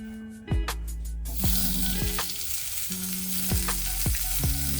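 Food frying in Star margarine in a pan, a constant close sizzle and crackle, with repeated swooping tones from background music running through it.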